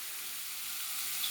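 Spring water pours into a hot pan of sautéing cabbage with bacon and onion, giving a steady hissing splash and sizzle, close and unbroken for the whole moment.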